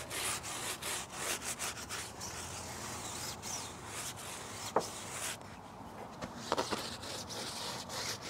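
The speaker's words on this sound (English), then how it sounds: "is you start agitating, right? Now the whole purpose of the agitation is you're actually opening up more of the pores." A bristle brush scrubs tyre rubber coated with tyre and rubber cleaner in rapid, close, rasping back-and-forth strokes, with a few sharp knocks near the end.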